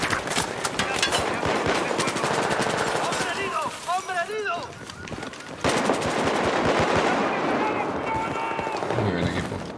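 Machine gun bursts crack in rapid clusters during Battlefield 4 gameplay on PS4, loud and dense at the start and again after a short lull, mixed with a radio-style voice and game noise.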